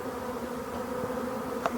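Honeybee swarm that has settled on ferns among nettles in the evening, a steady close buzzing drone with a few individual bees passing nearer, no voices.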